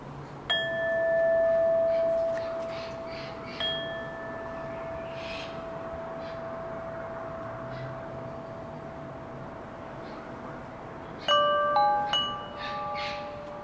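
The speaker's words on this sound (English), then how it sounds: "Wind in the trees, the distant motors, and some wind chimes, maybe." Wind chimes tinkle outdoors in the early evening, a few clear ringing tones near the start and a brighter cluster of chimes near the end, over a steady wash of wind in trees and distant motor hum.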